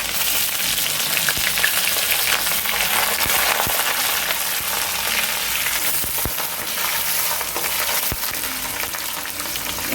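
Onion and green chilli sauté in a pan for a coconut-based kuzhambu. A loud, continuous hissing sizzle fills the whole stretch, broken by occasional scrapes and clicks of stirring, with no talking.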